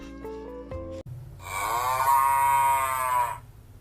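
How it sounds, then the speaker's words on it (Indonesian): A cow moos once in a long, loud, close low call, preceded by a brief musical tone and fading out at the end. "Bagaimana suara sapi?"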